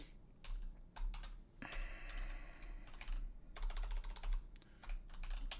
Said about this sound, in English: it's hard to type with this microphone in front of me.